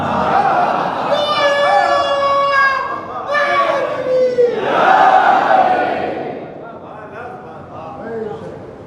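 A majlis audience chants religious slogans in unison, a loud, sustained crowd of voices rising and falling together over several seconds.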